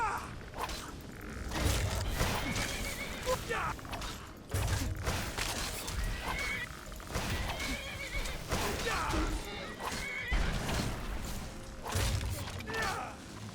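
Repeated horse whinnies and neighs burst out over a busy, dense Skyrim battle soundscape with thumps and clatter, loud and close throughout.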